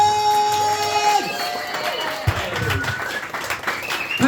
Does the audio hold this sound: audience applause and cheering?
yes